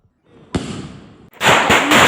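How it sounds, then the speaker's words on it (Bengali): Diwali firecrackers bursting loudly nearby, with a sharp bang followed by a rushing burst and then a dense, harsh crackle of several more explosions close together. "ভীষণ ফটকা ফাটছে,"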